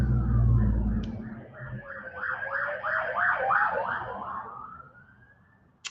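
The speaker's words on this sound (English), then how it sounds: "Sorry, there's another siren." A passing ambulance siren wails in rising and falling sweeps at moderate distance, swelling to its loudest midway and then fading away, with no talking.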